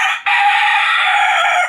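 Loud, close crowing from a fighting rooster, one long continuous call with a short dip near its start, ringing clearly with no talk over it.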